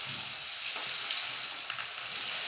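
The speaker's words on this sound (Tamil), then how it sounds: "அதை எப்படி வந்து எண்ணெயில் போட்டு பொரிச்சு எடுக்கலாங்கிறத பார்க்கலாம்" Cauliflower pieces fry in hot oil, giving a steady, close bubbling sizzle that holds evenly throughout with no voices.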